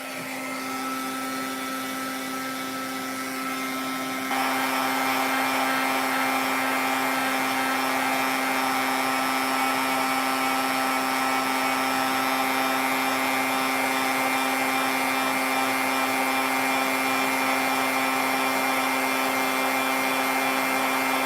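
Heat gun blowing during paper heat embossing, a loud continuous whirring roar that grows louder after a few seconds and holds steady, with no talk.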